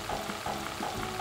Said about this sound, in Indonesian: Ini kita goreng sampai permukaannya cukup sedikit kecoklatan